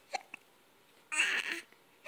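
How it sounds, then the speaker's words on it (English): A baby hiccups, with two small soft hiccups followed by a louder, longer hiccup-like burst and a faint one at the end. Quiet gaps separate them. "Those hiccups make you mad."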